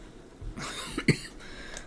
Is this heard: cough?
yes